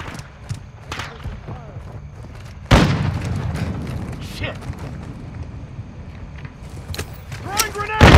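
Call of Duty grenade explosion: one loud, sudden boom lands midway and its rumble trails off, with another burst at the end, amid battle noise, mechanical clanks and talking voices.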